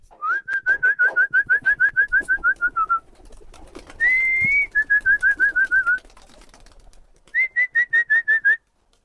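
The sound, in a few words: pigeons being released, cooing and flapping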